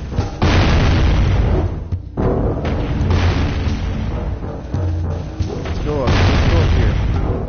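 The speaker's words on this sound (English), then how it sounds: "Okay, you're still firing that cannon" Cannon fire in the video game Jak and Daxter: heavy booms recur throughout, loud and close, layered over dense game sound and music with a voice speaking.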